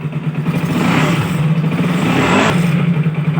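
A Bajaj Rouser motorcycle engine runs close and loud, a steady throbbing idle with a couple of brief revs swelling and easing back, and no voices over it.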